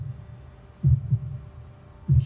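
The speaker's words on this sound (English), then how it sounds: "You hear like a heartbeat." Heartbeat effect heard from the first-person car view in a PS2 racing game: a few deep, soft thumps, a doubled beat followed by another after a pause, over a low steady hum.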